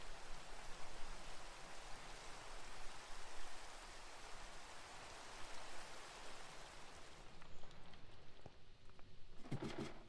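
Steady rain falls in Minecraft as a dense, even hiss for about seven seconds, then drops away to near quiet with a few faint clicks and thumps at the end.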